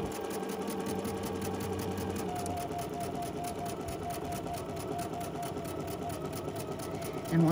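A sewing machine stitches steadily and continuously up close, a dense, even mechanical whirr with no voices and a slight bump in level at the very end.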